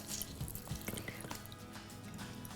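Soaked gelatine is squeezed tightly by hand, wringing out liquid in short wet squelches and drips falling into a bowl, close and fairly quiet.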